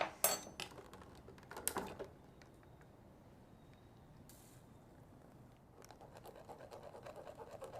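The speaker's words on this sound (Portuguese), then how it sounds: "Com colher, a gente aperta e o líquido vai descendo no nosso recipiente." Passion fruit pulp pressed through a medium sieve with a spoon, giving soft scraping and wet squishing scrapes near the start, then quiet low rustling, with faint scraping returning toward the end.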